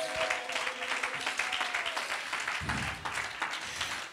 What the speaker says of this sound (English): Somebody clap your hands to the Lord here today.